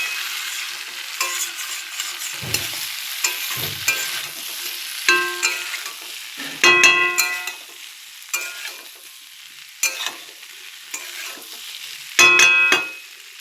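Mustard broccoli curry stirred in a pan with turmeric, a spoon scraping in bursts of clinks and scrapes over a steady low sizzle, fairly close and with no talking.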